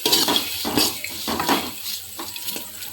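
Snacks frying in a little oil in a pan over a low flame, with loud, close clinks and scrapes of a ladle stirring at an irregular pace over a soft sizzle.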